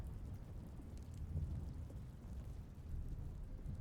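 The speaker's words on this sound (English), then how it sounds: "I like how it's raining now" Steady rain falling in the video game The Stanley Parable, a soft continuous low wash of patter that holds evenly throughout without voices.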